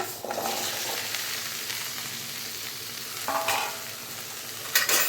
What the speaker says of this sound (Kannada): ಬೆಂಡೆಕಾಯಿನ ಚೆನ್ನಾಗಿ ಫ್ರೈ ಮಾಡಬೇಕು, ಅಂಟಿರಬಾರ್ದು ಬೆಂಡೆಕಾಯಿನಲ್ಲಿ